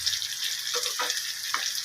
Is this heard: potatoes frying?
yes